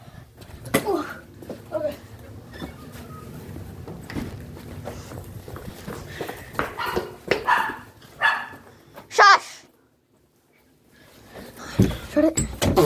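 A puppy barks indoors in short, sharp bursts scattered between people talking nearby, with a brief quiet gap before more barks and voices.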